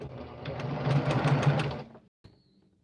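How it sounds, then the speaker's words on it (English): A sewing machine stitches a quarter-inch seam around fabric coasters in a steady, rapid whir that builds for about two seconds, then stops abruptly, followed by a faint click. "So I'm going to sew it all around, all 4 corners."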